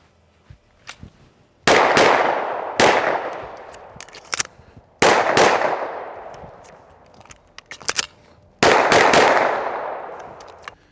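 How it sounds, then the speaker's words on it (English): A handgun fires Hornady XTP American Handgunner ammunition at a reloading practice range, with four loud, close, sharp shots at irregular intervals, each trailing a ringing decay, and lighter clinks and handling noises between them. "Today we're loaded up with some Hornady XTP American handgunner ammunition, so let's give it a shot."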